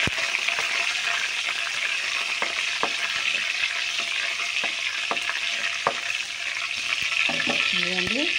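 Curry leaves sizzle and spatter in hot oil in a home kitchen pan as a spoon stirs them, giving a steady bright crackle broken by sharp scraping clicks and a short clatter near the end.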